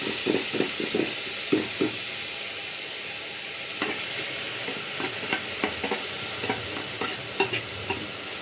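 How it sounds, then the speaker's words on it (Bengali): Dried shrimp fry in a hot pan and are stirred with a utensil: a steady hiss of sizzling runs throughout, broken by repeated scraping strokes, with no speech. "এখন আমি এই যে চিংড়ি মাছগুলো দিয়ে দেবো।"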